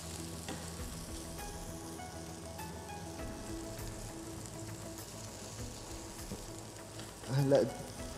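Garlic and onion frying together in a pan, giving a soft, even sizzle and crackle that carries steadily throughout, with a short louder stir or scrape near the end.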